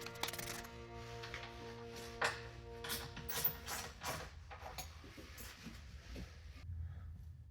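A ratchet tightens bolts on aluminum high-line fender flares on a Jeep JL, giving a series of close, quick clicking bursts with pauses between them and some background hum.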